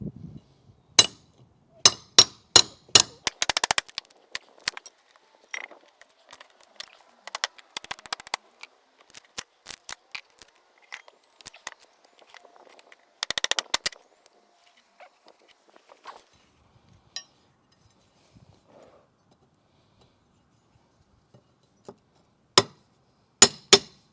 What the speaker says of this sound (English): get your flat bar or some sort of prying tool and remove the 1x4s